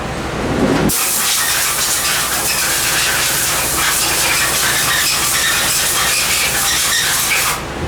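Compressed air blasting over a Rover V8 Merlin Stage 4 cylinder head on a machining bench, a loud steady hiss starting abruptly and holding for several seconds before cutting off, with no talk.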